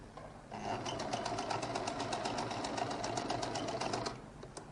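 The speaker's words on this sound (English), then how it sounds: "So I'll now turn this, stitch this one down properly." A sewing machine stitching a lady's jacket whirs into a steady, rapid mechanical chatter for about three and a half seconds, then stops; it is close and clear, with no speech.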